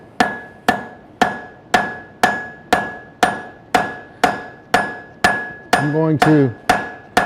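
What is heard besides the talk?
hammer forging metal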